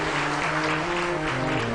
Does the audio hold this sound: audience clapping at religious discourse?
yes